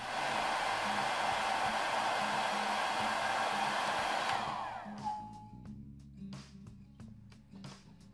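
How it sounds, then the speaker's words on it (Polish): Hair dryer blowing with a loud, steady airy roar for about four seconds, then cutting off into faint clicks and handling noises as it spins down. "Suszarka do włosów."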